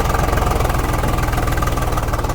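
A low, rapidly pulsing diesel throb from a tractor straining under load in a tug contest, steady and close throughout, with no talk.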